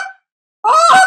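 A hand-blown goose call gives a short honk and then a louder, sustained honking note, a cluck moan imitating a goose, loud and close with a silent gap between the two.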